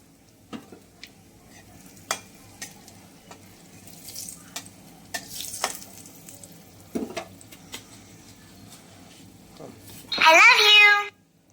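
Nigella seeds and green chillies hit hot oil in a pan with a sudden loud burst of sizzling near the end, after a stretch of quieter kitchen clatter and light taps.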